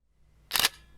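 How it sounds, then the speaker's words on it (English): A single crisp camera-app shutter sound effect, sharp and bright, standing alone against near silence. "Let's take a picture. We have our shutter,"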